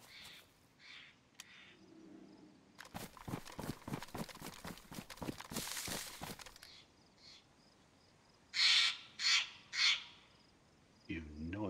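Birds in the video game DayZ give three loud, harsh crow-like caws in quick succession near the end, following a rapid clattering rhythm earlier, with a voice briefly heard.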